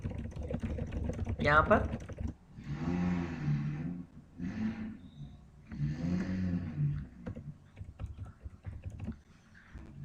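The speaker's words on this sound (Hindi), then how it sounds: "पहले मैं कुछ टाइप कर लेता हूँ" Typing on a computer keyboard while setting up text in a font settings tutorial, heard as quick close clatters that run under a man's speech and pause between his phrases.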